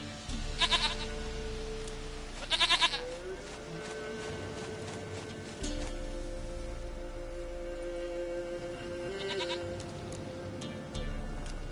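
Several short, quavering goat bleats from The Witcher 3, two clustered early and another later, ring out close over a low steady background hum.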